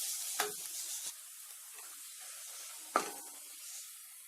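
Finely chopped garlic sautéing in melted butter in a hot pan, a quiet steady sizzle broken by a few sharp scraping stirs near the start and again midway.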